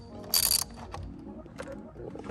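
A ratchet with a 1/4-inch socket turning a Torx bolt on a 10th-generation Honda Civic steering wheel, rapid close clicking pawl sounds in short bursts with one louder grinding burst near the start.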